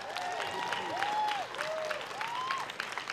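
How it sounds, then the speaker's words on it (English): A crowd at an outdoor community celebration applauds a dragon and lion dance troupe steadily, a dense wash of clapping with a few whoops rising over it. "Give them another round of applause."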